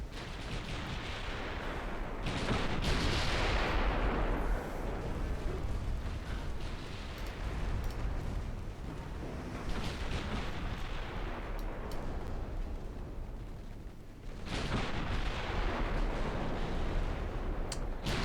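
Naval gunfire in a Brazilian-campaign naval warfare game: armoured cruiser guns pound an enemy ship in dense, rolling booms that swell and overlap almost continuously, loud and close, with a few louder salvos breaking through.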